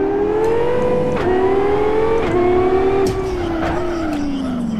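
Simulated Lamborghini V10 supercar engine in the racing game Live for Speed, a loud steady drone whose pitch climbs and dips through gear changes, with brief shift breaks and no talking.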